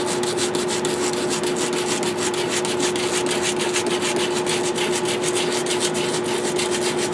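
Paint on a downhill helmet is sanded by hand with coarse 100-grit sandpaper, a continuous close scratchy rubbing in quick back-and-forth strokes with no talk.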